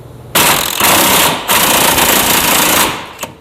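An impact gun rattles off bolts holding a front differential in two loud sustained bursts of rapid hammering, close up, with a short pause between and a brief tap at the end.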